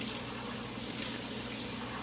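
Water poured into a pot of homemade meat sauce for pasta, a steady soft splashing and gushing pour that runs continuously and evenly at close range, with no voices over it.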